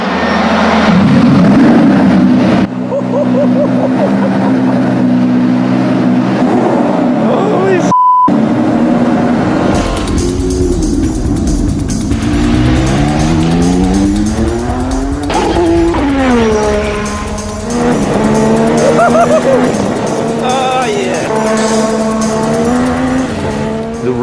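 Ayrton Senna's 1980s Formula 1 car driven on a circuit, its engine roaring loud and close with rising and falling revs through gear changes and corners, a brief cut midway, voices faintly under the engine.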